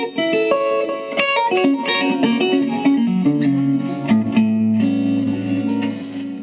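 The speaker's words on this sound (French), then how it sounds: "moi ça baigne trop dans la reverb" Arpeggiated guitar notes are played up close and drenched in heavy reverb, so each plucked tone rings into a long, washy tail that blends with the next chord.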